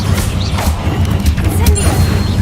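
Bombarda blasting spell from Hogwarts Legacy, a dense crashing impact over a steady low rumble of game sound, loud and continuous throughout.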